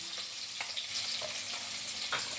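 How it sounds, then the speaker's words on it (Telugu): Onions dropped into hot oil in a frying pan for a Telugu-style curry, already holding green chillies and curry leaves, sizzle steadily, with a few stirring scrapes cutting through the frying hiss. "ఇప్పుడు ఉల్లిపాయలు వేస్తున్నాను"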